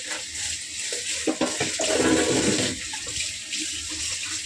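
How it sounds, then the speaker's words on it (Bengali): Washed dishes rinsed under a running kitchen tap, with a steady hiss of water that swells into a fuller, closer gush of water hitting the dishes in the middle before easing back to a thinner stream. "বাসন মাজা হয়ে গেছে, এবার ধুয়ে নিচ্ছি।"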